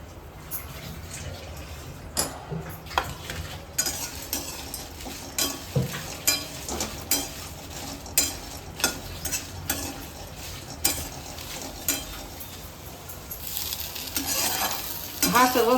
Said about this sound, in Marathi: मग हा सगळा गरम मसाला भाजून घ्यायचा.